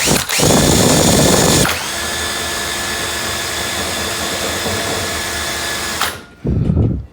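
A power drill whirs loudly at close range for several seconds, with short bursts of motor noise at the start and end.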